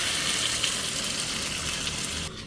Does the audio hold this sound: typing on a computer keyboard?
no